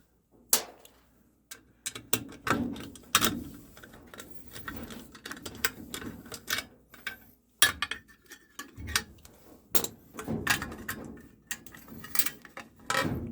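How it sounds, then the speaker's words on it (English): Two 5/16 screws are backed out of a washing machine panel during a water valve replacement, giving a run of sharp metallic clicks, ticks and rattles of the driver and screws, close and fairly loud with brief pauses and no talk. "let's now take off these two, also 5/16 size screws"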